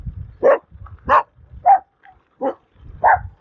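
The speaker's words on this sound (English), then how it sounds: "here comes a bunch of little dogs. They seem to think they're going to bark at me." Several small dogs bark at a passing electric trike on a morning ride, giving about five separate sharp barks at a steady pace. The barks are fairly close and stand out clearly over a low rumble of motion.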